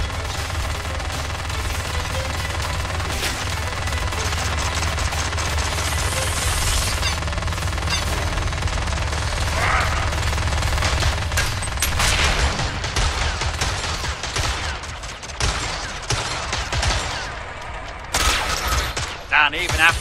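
A turret in the video game Shards of War fires in long rapid automatic bursts, a dense rattling barrage that stays loud for most of the stretch and then breaks into choppier shots near the end.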